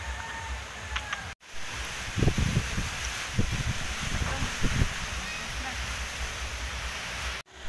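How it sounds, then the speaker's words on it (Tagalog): Typhoon winds from Quinta and Rolly in the Philippines thrash the trees outside: a steady, loud broadband roar with bursts of rustling foliage and gusts swelling through the middle. "Napakalakas pa rin mga puno doon ay nagyuyug-yugan."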